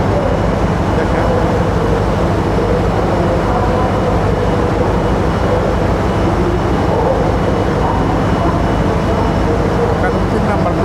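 Steady, loud rumble fills the old British-era Colombo railway station, trains and platform ambience running continuously for about eleven seconds with a murmur of voices mixed in.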